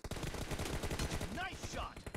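Continuous rapid gunshots from the PUBG video game fill the clip, a loud dense rattle of automatic fire with no talking.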